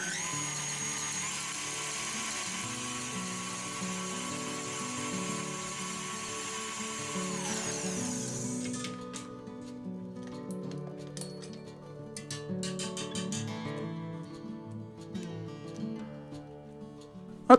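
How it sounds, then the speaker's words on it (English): A stand mixer whirs steadily while whisking fresh cream sponge cake batter, a loud continuous motor whine that stops partway, followed by clinks and tapping of the whisk and bowl. "Now give this a quick whisk, but only until it's all combined."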